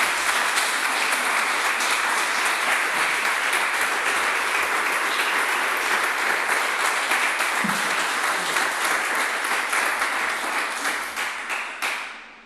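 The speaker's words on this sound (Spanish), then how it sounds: "Dele un aplauso al Señor." Church congregation applauding, a dense, sustained wash of many hands clapping that holds steady for several seconds, then thins and fades out at the end.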